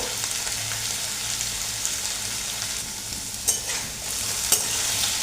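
Potatoes frying in a pan for a dry potato and poppy-seed curry, an even continuous sizzle with a couple of brief stirring knocks, close and moderately loud.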